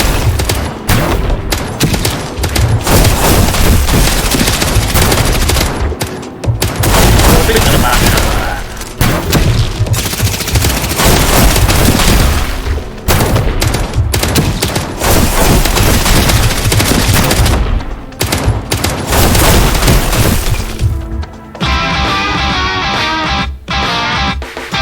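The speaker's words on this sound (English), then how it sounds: "Pistol rapid fire damage." Rapid pistol fire mixed with heavy gunfire and blasts in a shooter game advert. It stays dense and loud for most of the stretch, with brief breaks between bursts, and a voice talks over parts of it.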